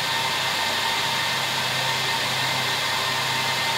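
Cooling fans of a Cisco UCS 6296 UP fabric interconnect roar at startup, a loud, steady broadband whoosh that holds unchanged throughout with no voices.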